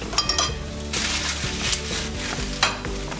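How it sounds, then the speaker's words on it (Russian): Oil sizzles and crackles steadily in a hot pan of frying onion rings, with occasional stirring scrapes and light clinks of a utensil against the metal. "мы лук, порезанный кольцами, выкладываем равномерно на поверхность сковороды"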